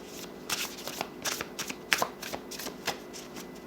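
Tarot cards being shuffled by hand, a soft papery riffle of brisk, irregular bursts of card flicks and slides, close and quiet with no voices.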